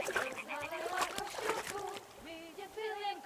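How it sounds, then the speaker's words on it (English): Stone tossed into water in the video game Kingdom Come: Deliverance II, giving a short splash and sloshing amid game ambience and speech-like voices over about three seconds. "Throw a stone in the water near her to lure her away."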